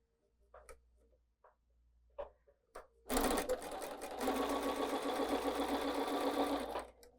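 A sewing machine stitches across the corner of a fabric quilt block for a pieced pumpkin design, starting after a few faint clicks of handling and then running in one steady, close, whirring burst for several seconds before stopping.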